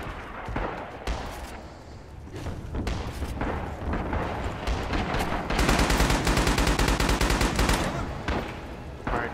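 Browning Automatic Rifle fire in the Rising Storm video game comes first as scattered loud shots, then as a sustained rapid automatic burst with other battlefield gunfire around it.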